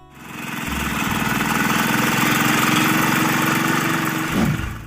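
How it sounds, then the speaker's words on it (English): An old American tractor engine runs steadily, with a loud, rapid chugging knock that holds even for several seconds and drops off briefly near the end. "listen to the sound of the engine that was once the rhythm of life in a golden age"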